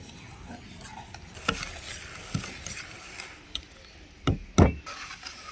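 Flour, sugar and white oil being stirred together for sponge cake batter in a bowl, with soft sticky stirring and occasional knocks of the spoon against the bowl, growing louder toward the end.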